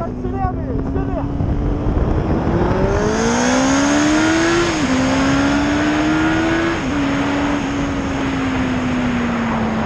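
A 2000 Yamaha R1 sport motorcycle accelerates hard, its engine note rising and dropping through several gear changes over about ten seconds, loud and close with speech partly over it.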